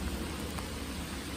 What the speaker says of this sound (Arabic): وكما تسمعون هناك مطر شديد